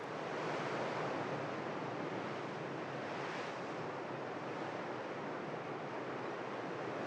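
Ocean surf at a New Zealand surf beach roars in a continuous wash of breaking waves, with wind buffeting the microphone throughout and no voices.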